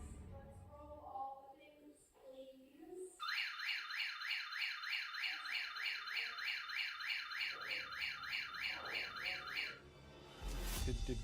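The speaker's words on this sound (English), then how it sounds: "We heard a motion alarm from over there." A motion sensor alarm inside a house sounds a loud, rapidly pulsing electronic warble that repeats steadily for several seconds, then cuts off. Brief muffled sounds come before and after it.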